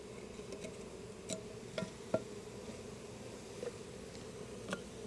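Honeybees being installed into a top bar hive, a faint low buzzing hum with occasional soft taps and knocks from handling, quiet and close.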